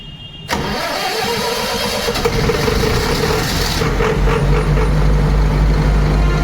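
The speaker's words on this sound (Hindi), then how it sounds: "तो दोस्तों ये अपना इंजन स्टार्ट हो गया है, देख सकते हैं ऑटो में वार्म अप पे चल रहा है।" A Kirloskar diesel generator engine cranks and fires on automatic start, then settles into a steady, loud warm-up idle with a continuous low rumble close by.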